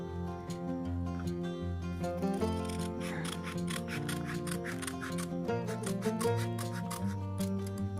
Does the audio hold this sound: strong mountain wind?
no